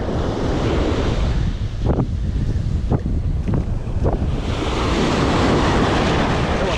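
Ocean surf breaks steadily and loudly on a Southern California beach during surf fishing, with wind buffeting the microphone and a few softer wash pulses, no talking.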